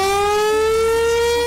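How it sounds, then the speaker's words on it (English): A civil defense warning siren wails steadily and loudly, a sustained rising tone with rich harmonics and no voices, the kind of outdoor flood-warning system considered for Kerr County, Texas. "the only thing that might have made a difference on July 4th was a siren warning system."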